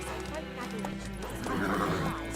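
A horse in The Witcher 3: Wild Hunt lets out a short neigh alongside clip-clopping hooves, close and clear, with a voice speaking over part of it.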